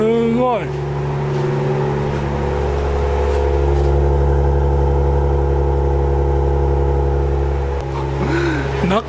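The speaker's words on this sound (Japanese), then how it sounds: "今それよりこの爆音に驚いてる" A Maserati's engine roars loudly and steadily at close range, a deep constant drone. People exclaim briefly over it at the start and the end.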